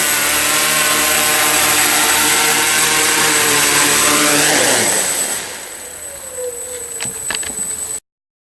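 Tarot multirotor drone with its motors whining loudly on a test flight, a dense buzzing with stacked harmonics for about five seconds, then the pitch sweeps and the sound drops to a quieter hum before cutting off.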